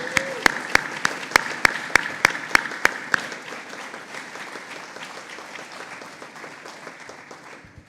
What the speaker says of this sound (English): I think we should have another round of applause for the Ferguson family.